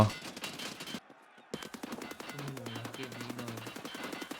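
Gunfire from a jumping player in the shooter Escape from Tarkov Arena comes as rapid, loud automatic bursts, broken by a brief silent gap and then resuming steadily under a low tone and faint voice.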